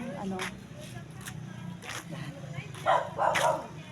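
Several dogs in a village street yap and bark in short, sharp bursts, some near and some farther off, while a person talks over the noise of the outdoor surroundings.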